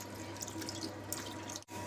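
Water runs and drips steadily into a pot at close range, with a brief break near the end.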